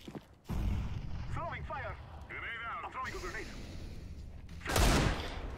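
Heavy Counter-Strike: Global Offensive gunfire in bursts, booming shots at the start and a loud blast near the end, with brief voices in between.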